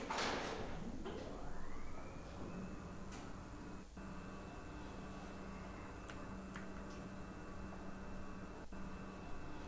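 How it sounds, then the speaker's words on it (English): A door closing inside the Roblox game world, a soft sliding rush near the start that settles into a steady electronic hum with faint ticks, with no talking over it. "If I close the door, you'll be able to see it more."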